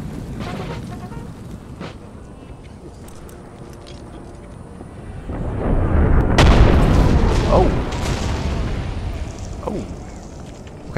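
Cannon fire with round shot in a Total War: Empire battle, heavy booms swelling into a loud rumbling barrage midway, with a few sharper reports afterward over steady battlefield noise.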